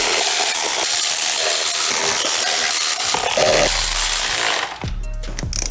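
A tool ratchets and whirs as bolts are snugged down in a crisscross pattern on a BMW N54 engine's valve cover, several loud close bursts of mechanical rattling followed by a quieter pause and softer clicks.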